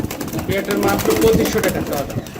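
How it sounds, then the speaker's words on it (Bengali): A pair of white Baghdadi pigeons coo softly in short murmuring bursts, close by, with people talking over them. "বাগদাদি কবুতরের জোড়া হোয়াইট কালার"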